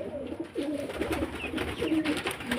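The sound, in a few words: pigeons cooing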